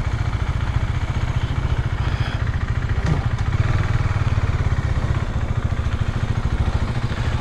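A motorcycle engine idles steadily nearby, a low, even rumble with rapid rhythmic putter throughout, no voices.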